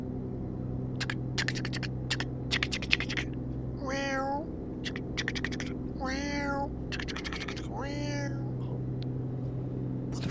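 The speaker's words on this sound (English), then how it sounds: "Oh, I'm sure I'm hearing this cat. Meow." A cat meows three times in a row over a steady low engine-like hum, with faint computer keyboard tapping, heard inside a truck cab.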